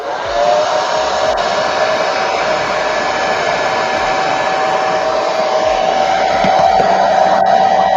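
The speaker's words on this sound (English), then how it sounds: "It means blow dryer." A blow dryer runs steadily up close on a hobby workbench where action figures are being customized, a loud, constant whirring roar that holds for about eight seconds without pause or talk.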